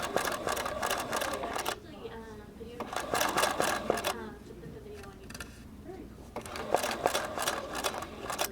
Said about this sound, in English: I'm going to stitch out to the side, swing the ribbon to the needle and take a stitch